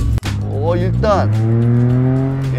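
Tuned Korean light car engine on a test drive, a steady loud drone that rises in pitch as it accelerates through the gears, with voices speaking over it.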